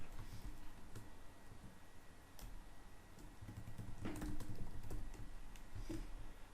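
Typing on a computer keyboard while a password is entered, a steady run of light plastic key clicks for several seconds over a low background hum.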